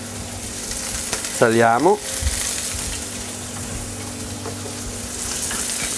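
Shrimp tails frying in a pan sizzle steadily while being stirred, with a brief spoken word over the constant crackling hiss.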